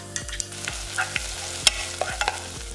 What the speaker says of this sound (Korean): 중약불에 냄비 올려 고소한 참기름 2스푼 골고루 볶아서 파 마늘기름 내주고